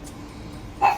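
A dog gives a single short bark near the end of a brief, otherwise quiet stretch of low room noise.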